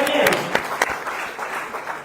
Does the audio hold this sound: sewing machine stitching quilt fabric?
no